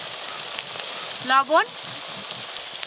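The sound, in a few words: frying onion, garlic, ginger paste and spices in pan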